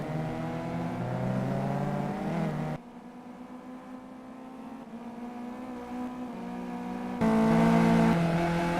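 A Mitsubishi Evo race car in the Simraceway racing game, driven hard with a loud high-revving engine that climbs through the gears, with abrupt shifts, sudden drops and surges in pitch and no voices.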